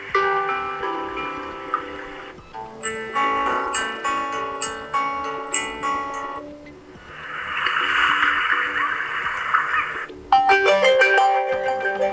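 Several alarm ringtone melodies on a Huawei P40 Lite phone play one after another, bright electronic tones and chimes changing abruptly, moderately loud with no talking.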